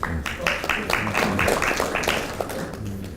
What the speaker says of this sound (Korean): 박수로 좀